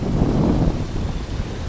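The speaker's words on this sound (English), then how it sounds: "It's kind of windy today, so that's kind of a bad thing." Steady wind buffets a handheld microphone outdoors at Temple Square on a breezy April day, a low continuous rumble with no talking.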